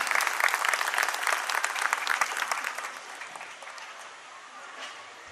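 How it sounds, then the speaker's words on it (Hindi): Audience applause welcoming the chief guest at a school annual day, a dense burst of clapping that peaks early and then thins and fades over the last seconds. "कृपया जोरदार तालियों के साथ हमारे माननीय मुख्य अतिथि का स्वागत करें।"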